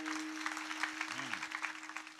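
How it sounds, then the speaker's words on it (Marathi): An audience at a kirtan claps in a fast, continuous patter, a brief burst of crowd applause with a steady electronic hum beneath it and a short tonal sweep partway through. "एकदा टाळ्या वाजवा सिस्टीम करता"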